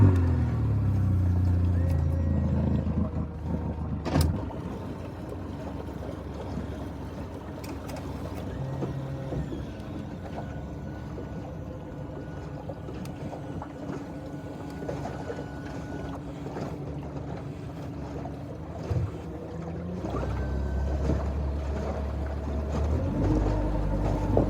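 A boat motor idles out on a bayou, a steady low rumbling drone that holds for the whole stretch, with a few brief knocks and bumps and no talking.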